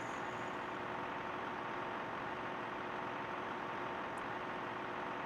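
A tractor engine idles in Farming Simulator 2013 as a steady, even mid-low drone that holds unchanged throughout, with no speech over it.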